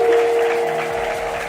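Brief burst of congregational clapping at a prayer service, many hands striking together over a held musical note, loud at first and easing slightly.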